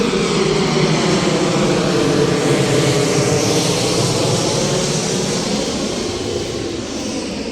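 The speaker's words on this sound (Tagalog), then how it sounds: "Dumaan yung airplane lumaan yung airplane." An airplane roars overhead near Clark International Airport, a broad, loud engine wash that swells and slowly fades, with no one talking.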